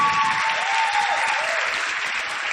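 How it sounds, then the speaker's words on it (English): Audience applause at a youth-focused talk event, a dense steady wash of clapping holding at even loudness throughout with no speech over it. "thank you for the clap"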